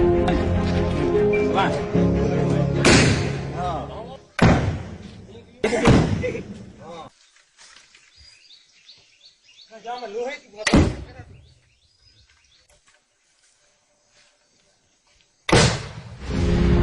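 A homemade desi gun, a farm device built by a young villager in Narsinghpur, fires several loud sharp bangs with abrupt slams; birds chirp faintly in the quieter gaps between blasts.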